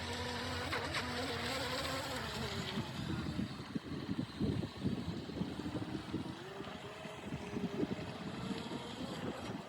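An RC Racebird model boat fitted with a bigger motor runs on the water, its high buzzing whine steady and fairly distant, rising and falling with the throttle over wind noise.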